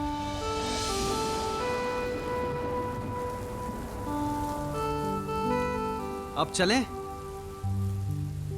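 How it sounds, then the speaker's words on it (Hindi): Heavy rain pours down steadily, a dense close hiss of drops on surfaces that fills the whole scene, with brief overlapping speech and faint tonal music running beneath it. "इतने दिन के बाद तो बारिश में भीगने का मौका मिला है"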